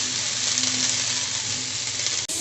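Leafy greens stir-fry in a pan with a steady, bright sizzle and light stirring, close up, ending in an abrupt clatter.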